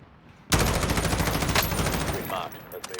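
Rapid video-game gunfire bursts out suddenly, loud and close, a sustained run of automatic shots that trails off into a few scattered pops, with no talk over it.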